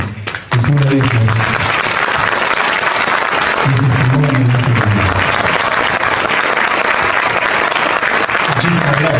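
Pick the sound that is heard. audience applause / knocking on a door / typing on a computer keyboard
audience applause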